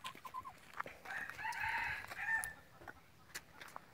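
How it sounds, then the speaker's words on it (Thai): A red junglefowl crows once, a clear mid-range call rising and stretching in the middle, surrounded by faint clucks and short background chirps with no talking. "ไก่ป่านะครับตัวนี้ครับ"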